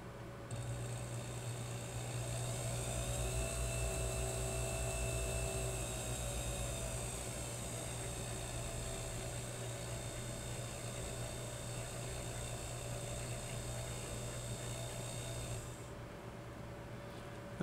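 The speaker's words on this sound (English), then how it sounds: "I want to burnish it a bit now." A lathe runs continuously while a carriage clock escapement pivot is burnished, a steady whining mechanical hum with a high tonal whine on top, close and even, cutting off near the end.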